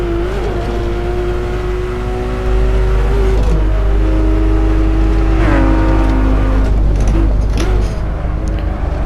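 A race car engine in Assetto Corsa, driven on the Nurburgring, blips and revs through a heel-and-toe downshift: a loud, sustained engine tone that drops and rises in pitch with sharp throttle blips, close and steady, with no talking.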